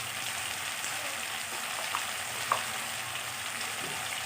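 Onion paste sizzling in a frying pan with turmeric and moringa drumsticks, a dense, steady hiss of frying throughout, broken by a couple of small crackles.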